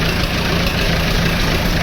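A vintage standard Fordson tractor engine idles while warming up, a loud, steady low chugging rumble close by, continuous and even, with no speech.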